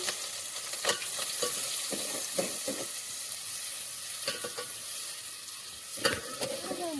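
Tempering spices crackle in hot oil for a carrot-chilli sambharo, a steady close sizzle broken by sharp stirring scrapes and clicks at irregular intervals, with no talk.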